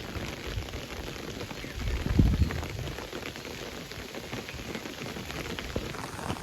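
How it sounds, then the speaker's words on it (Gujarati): Heavy monsoon rain patters densely and continuously on surfaces in a village in Gujarat, with a short low rumble swelling near the middle. "અને કલાક ને કલાક હવે વરસાદ એને પાછો વધવામાં જ"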